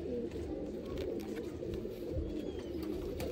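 Pigeons coo softly in a low, repeated murmur, with the occasional faint chirp over a steady background.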